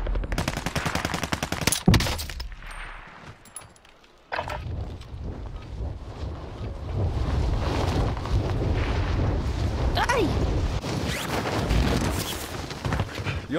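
Rapid machine-gun bursts and scattered rifle shots crackle in a military video game, loud and dense at first, then continuing as a steady barrage of battlefield gunfire.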